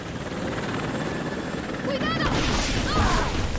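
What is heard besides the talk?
helicopter in the video game Rise of the Tomb Raider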